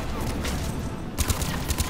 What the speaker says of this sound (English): Will you stop shooting me?